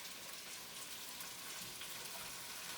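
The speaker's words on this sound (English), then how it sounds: "I heard that sizzle." Cabbage hitting a pan of frying bacon and onion, giving a steady, faint crackling sizzle like light rain, unbroken and even with no talk over it.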